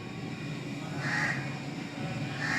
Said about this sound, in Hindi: कौवा भी क्या क्या कर रहा है